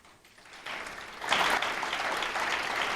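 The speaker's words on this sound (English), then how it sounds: "I wasn't expecting applause." Audience at an author talk in Des Moines breaking into applause, a dense wash of clapping that swells quickly after a quiet start and holds steady and loud.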